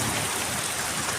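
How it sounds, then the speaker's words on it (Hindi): Heavy monsoon rain over Islamabad and Rawalpindi pours down as a dense, loud, continuous hiss of downpour, with no break and no voices. "इस्लामाबाद, रावलपिंडी में मूसलाधार बारिश ने जल थल एक कर दिया"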